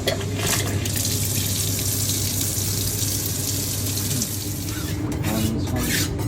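A liquid pump moving used oil drained from a vehicle into a container, giving a steady, continuous rushing flow close by that runs without a break for several seconds.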